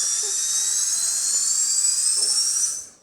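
High-pitched electronic whine of a Guyver unit prop firing up, a steady shrill tone rising slightly in pitch, loud and close, fading away at the end.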